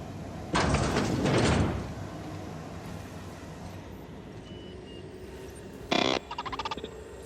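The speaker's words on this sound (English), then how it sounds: "I'll get the door." A door opens in the video game The Outer Worlds with a loud mechanical whoosh. A few seconds later comes a second sharp burst followed by a short run of rapid electronic beeps, all with no talk.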